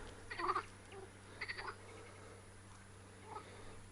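Volga frogs calling by the river in two short rattling bursts, then a fainter third, distant and thin against a steady low hum.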